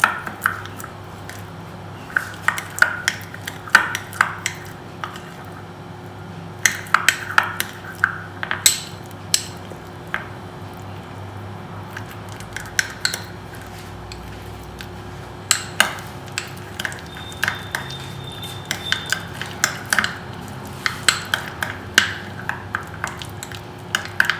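Butter mixed with crushed garlic and Italian herbs in a bowl, heard as repeated scraping and clinking taps of a utensil, irregular and close, over a quiet background hum with no talk.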